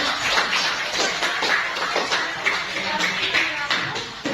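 Students in a junior high classroom clap their hands in a loose, moderately loud round of applause, a scattered patter of claps with some shuffling and faint voices beneath.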